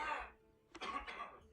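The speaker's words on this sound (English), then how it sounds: "I have the cough here." A single close cough with a short throat-clearing rasp, quiet overall, with faint breathy noise before it.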